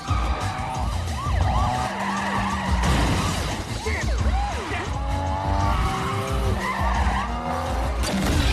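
Tires skid and a car races during a police chase in the film Fast and Furious 2, with the Nissan Skyline pursued and siren-like wails rising over loud, continuous engine and screeching noise throughout.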